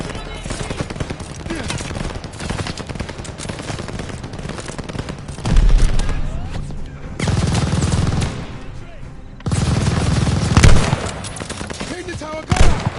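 Gunfire from a tower gunner in the video game Call of Duty Vanguard, with loud rapid automatic bursts and heavy shots rattling almost continuously, swelling in several dense blasts over a busy battle din.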